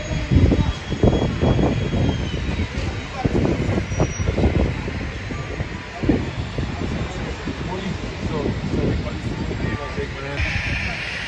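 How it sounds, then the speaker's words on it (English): Jet airliner engines roar as a loud, rough blast of turbulent wind at Sunset Bar beside the runway in St. Maarten, sustained and buffeting, with excited voices talking over it. "Guys, we're about to get jet blast."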